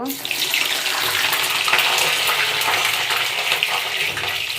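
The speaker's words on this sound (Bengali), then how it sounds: "বেগুনগুলো কিছু কিছু করে ছেড়ে দেব" Eggplant pieces fry in hot oil with a loud, steady, close-up sizzle that fills the whole stretch without a break, and no voices are heard.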